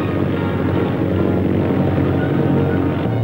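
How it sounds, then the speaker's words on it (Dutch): Dutch S-11 propeller trainer with variable-pitch blades taking off after a very short run. A loud, steady, broad engine and propeller roar holds unbroken throughout, with no voices. "Na een zeer korte aanloop is de instructor al los."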